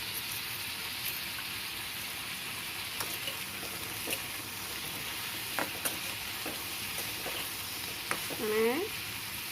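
Almonds roasting in a kadhai with a steady dense sizzle and hiss throughout, faint stirring clicks and scrapes, a brief voice near the end.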